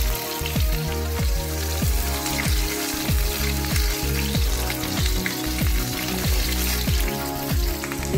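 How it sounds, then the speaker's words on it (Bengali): Papaya pieces and vegetables frying in hot oil for a Bengali neem jhol, a steady loud sizzle and crackle with regular stirring scrapes throughout and no talk. "একে একে আমি সব সবজিগুলো ভেজে নেব।"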